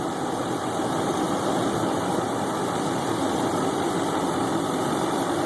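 A CNG-fueled V8 engine idles with no load during calibration, giving a steady, even hum with a faint buzzing whine, constant in level from start to finish.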